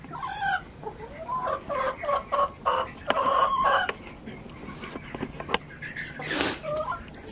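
Hens at a chicken coop squawk and cluck in bursts, several birds calling over each other close by, with a short loud squawk near the end.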